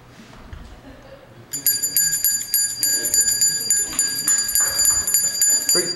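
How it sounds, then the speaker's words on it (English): A bright, sustained metallic handbell rings steadily and fairly loud at a Salvation Army kettle campaign kickoff, with a faint murmur of voices and room noise underneath. "how easy is it to ring a bell for the Salvation Army?"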